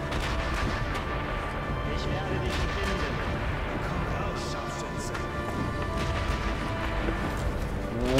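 Rifle fire in Sniper Elite V2 crackles in a dense, continuous stream of gunshots and distant battle noise, with a person speaking over the shooting.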